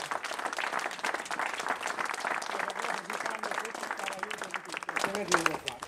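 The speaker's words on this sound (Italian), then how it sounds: "vorrei un applauso per Antonio." Applause from an audience at an Italian regional sports event in Molise, steady clapping throughout with voices and talk mixed in, louder toward the end.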